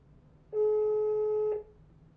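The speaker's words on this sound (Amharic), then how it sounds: "መልሶ ስልኩ አይመልስም።" A single steady electronic telephone tone, clearly loud and lasting about one second before cutting off, as an unanswered call to a relative in Jijiga, Ethiopia rings out, with no voices present.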